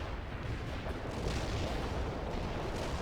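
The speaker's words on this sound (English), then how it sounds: "Commencing the barrage" Artillery barrage in World in Conflict, a heavy, sustained rumble of booming shell fire and explosions blending into one loud, continuous roar.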